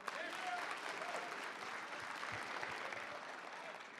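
A conference crowd claps in a steady, continuous round of applause that holds at an even level throughout, with a few voices faintly mixed in.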